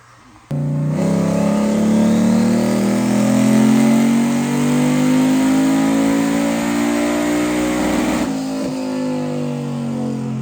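Mazda RX-7 rotary engine on a no-prep car pulling hard under power: a loud, sustained rising roar with a steady climbing pitch that cuts off abruptly after about eight seconds, no talk.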